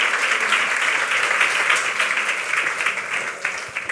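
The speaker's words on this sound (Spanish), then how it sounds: "Pido un aplauso para Marimer Pérez." An audience applauds a speaker named Marimer Pérez at a presentation event, with dense, sustained clapping from a sizable crowd that fills the room evenly throughout.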